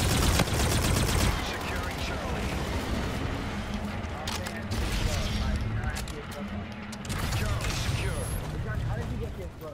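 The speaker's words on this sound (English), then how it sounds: "Bullet shot." Rapid gunfire from an online shooter video game rattles in dense bursts and scattered shots, loud and near, with people talking over the action.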